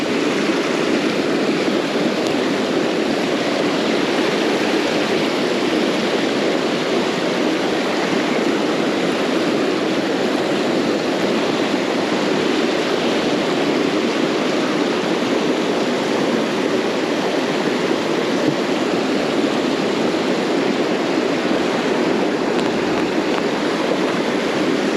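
A fast-flowing stream on the River Dee in late summer rushes steadily and evenly, a constant broadband wash of moving water with no pauses.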